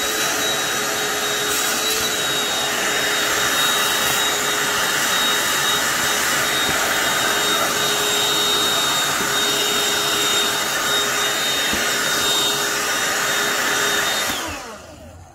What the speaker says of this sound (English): Okay, vacuum.